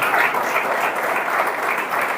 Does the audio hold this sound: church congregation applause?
yes